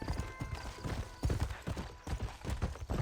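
Horse hooves clip-clop in Red Dead Redemption, a steady, close trotting rhythm of distinct thuds in the game's soundscape.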